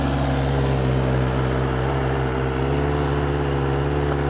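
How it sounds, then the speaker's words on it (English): A BMW S1000RR motorcycle engine runs loud and close, a steady droning tone with a strong buzzing rumble that holds throughout without distinct revs. "I love the way this bike sounds,"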